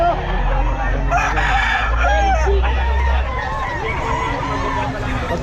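Gamefowl roosters crow and cluck loudly nearby, several drawn-out crows overlapping with steady clucking, with a low rumble and some talk in the background.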